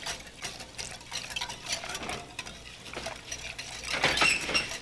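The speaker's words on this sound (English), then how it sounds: "And just stir them like this until it thickens." Lupini gravy ingredients whisked into milk in a pan: a steady, close scraping and swirling with faint clinks of utensil against metal, continuous and fairly loud.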